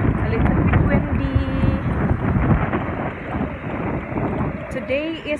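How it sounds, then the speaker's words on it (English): Strong wind buffets the microphone outdoors in Cuxhaven, Germany, with a constant low roar and gusty rumbling; a voice is briefly heard under it. "A little bit windy."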